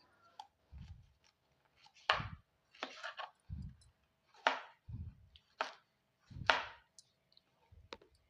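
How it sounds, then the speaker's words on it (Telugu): A knife chops ridge gourd into thin pieces on a board, giving about ten crisp, separate cuts in an uneven rhythm, close and alone. "ఫస్ట్ ఈ బీరకాయని నీట్గా కడిగి ఇట్లా సన్నగా ముక్కలు అయితే కట్ చేసుకుందాం"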